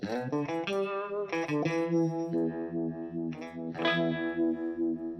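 An electric guitar on a clean tone rings out in clean, sustained notes with a wavering, swirling vibe effect, played alone with no voices.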